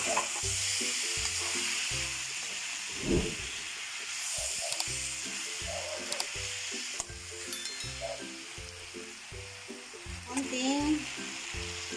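Pork fries in a pan with garlic and onion, crackling and sizzling loudly under a repeating rhythmic backing, with brief stirring scrapes along the way.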